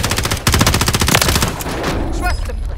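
Loud, rapid automatic gunfire in a shooter video game, a dense burst of close shots rattling for about two seconds before trailing off into fainter pops and a brief voice.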